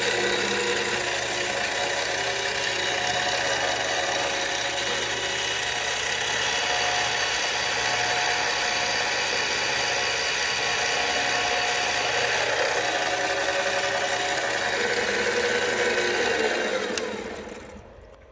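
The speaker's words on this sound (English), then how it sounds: "So now we're going to center drill." A steady, high-pitched whirring of a center drill boring into metal for a model airplane diesel engine runs continuously, then winds down abruptly at the end.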